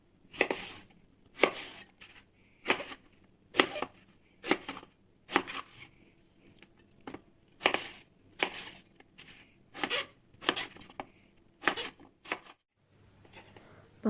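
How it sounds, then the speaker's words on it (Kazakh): A knife chops eggplant into pieces on a cutting board for a warm eggplant salad, giving about a dozen crisp, close knocks in an uneven rhythm with short gaps, no talk. "бірнеше бөлікке бөліп, дәл видеодағыдай тураймыз"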